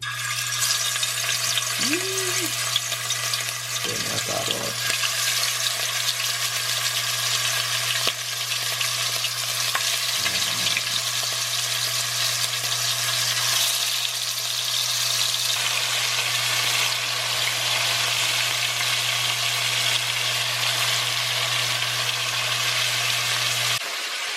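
Oxtail pieces browning in hot oil in a pot for Jamaican-style oxtails, giving a steady, loud, continuous sizzle and crackle that runs the whole time, with a few faint clanks of utensils early on.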